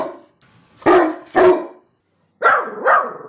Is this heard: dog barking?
yes